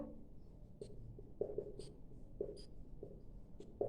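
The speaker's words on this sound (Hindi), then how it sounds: "यहां लिख देता हूं" Chalk or marker on a lecture board gives faint, close scratches and taps in short, irregular strokes, repeating over a few seconds against quiet room tone.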